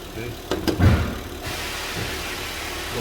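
A 2012–2015 Honda Pilot idles steadily just after a fresh battery is fitted, a low even engine hum with a few knocks and handling clatter near the start, and some faint background talking.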